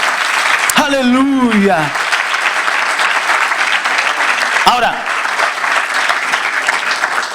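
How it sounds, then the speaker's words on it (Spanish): A church congregation claps for the Lord during a Spanish-language sermon: steady, loud applause throughout, with a preacher's voice calling out over it at the start and again briefly midway. "Denle un aplauso al Señor, aleluya,"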